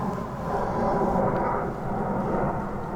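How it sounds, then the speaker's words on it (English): A large passenger plane passes overhead outdoors, heard as a steady, broad, low roar that holds evenly for the whole stretch with no breaks. "It's like a big passenger plane."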